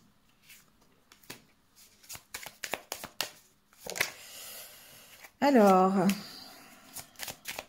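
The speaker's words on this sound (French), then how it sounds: "on va tirer quelques cartes de l'oracle de la lune noire" Black moon oracle cards are shuffled in quick crisp flicks and taps, close by and fairly loud. A short spoken word breaks in midway.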